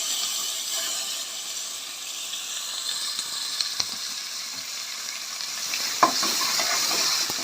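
Chopped tomato sautéing in a pan of oil with spices for mint and coriander pulao, a steady close sizzle and hiss with occasional stirring scrapes and pops throughout.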